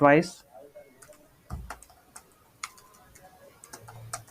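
Clicks of typing on a computer keyboard come in scattered single taps and short runs, close and fairly light, with a voice briefly heard at the start.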